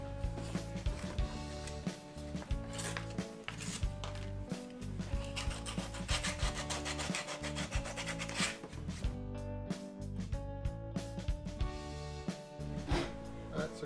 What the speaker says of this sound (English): Just going to maybe sand those down a little bit just to smooth them out before I actually go ahead and paint.